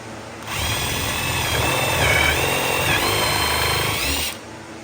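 Power drill driving screws into the wooden TV cart, one sustained whirring burst of about four seconds that starts and stops sharply, close and loud with no speech.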